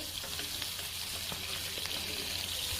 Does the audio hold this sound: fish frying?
yes